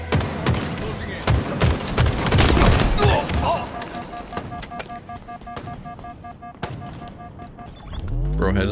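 Halo Infinite match with a rapid fusillade of gunfire and heavy blasts from grenade explosions, loud and close at the start, tapering into scattered shots and game tones, with voices talking over it.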